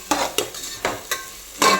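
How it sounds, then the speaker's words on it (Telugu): Ginger garlic paste frying in a pan for egg pulav, heard as short bursts of sizzling and scraping from a stirring spoon, about five quick strokes close by. "అల్లం వెల్లుల్లి పేస్ట్ కూడా వేగిపోయింది"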